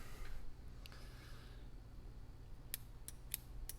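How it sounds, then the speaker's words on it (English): Scissors trimming tying thread at an angle on a fly-tying vise: several quiet, crisp snips in quick succession near the end, close and alone over a low hum. "trim it off at an angle so that it gives you a little bit of a taper going down"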